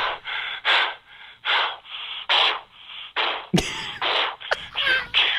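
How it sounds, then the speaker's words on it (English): Heavy, rapid breathing after running a marathon: loud gasping inhales and exhales repeat in a steady rhythm, close to the microphone, with one sharp noise partway through. "The heavy breathing situation."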